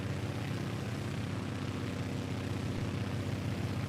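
Steady engine drone of an airplane in level cruise in a flight simulator, a smooth, constant hum with even loudness and no breaks.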